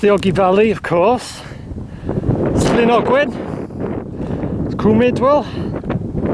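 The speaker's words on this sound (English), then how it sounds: "I'll have to shout, very breezy at the moment" Strong gusty wind on the slopes of Y Garn above the Ogwen Valley buffets the microphone with a loud, rough roar, heard beneath someone shouting throughout.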